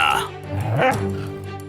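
A dog gives a short bark or yip amid a steady background hum, with voices faintly present.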